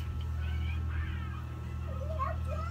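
A pet cat meows in a house in a few rising, wavering calls over a steady low hum, fairly faint and with no talk.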